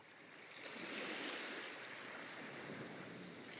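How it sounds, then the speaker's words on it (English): Ocean waves wash in a soft, continuous broadband rush that swells after a quiet start and then holds steady, a gentle relaxing surf with no voices. "You'll have that nice ocean sound to lull you into"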